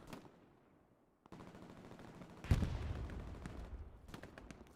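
Machine gun fire in a military shooter video game, quiet at first, then a sudden rapid burst of shots followed by a loud blast and continued rattling fire.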